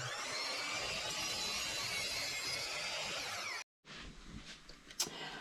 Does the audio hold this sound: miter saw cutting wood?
yes